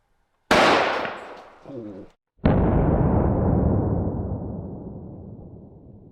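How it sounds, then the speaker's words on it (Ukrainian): A rifle fires an original .308 bullet into a concrete block at a ranch, one loud sharp blast with a second crack of impact and a long ringing echo that slowly fades outdoors. "Ми отримали досить потужний постріл."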